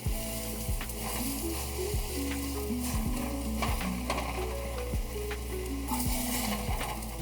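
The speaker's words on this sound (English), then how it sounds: "can you hear that sizzle?" Taco shells sizzle in hot oil, a constant crackling fry punctuated by several sharp clicks and clatters from handling.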